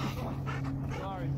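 A dog pants rapidly in quick rhythmic breaths, with faint whimpering mixed in, while a person talks nearby over a low steady hum.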